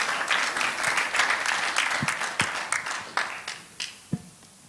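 An audience at an investment meeting in Germany welcomes a board chairman with steady applause that gradually thins out, ending in a few scattered, sharp individual claps.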